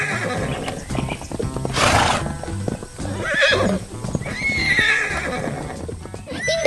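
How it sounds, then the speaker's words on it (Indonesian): Horses in a cartoon farm scene neigh loudly several times over a steady patter of galloping hooves, close and busy throughout, with no talking. "kuda-kuda yang lucu sedang bermain di tengah lapangan hijau, berlarian dengan ceria di hari yang cerah"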